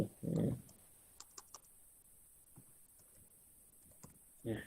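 Sparse typing on a computer keyboard, a handful of sharp key clicks scattered across a quiet room, close and crisp, with brief low murmurs at the start and end.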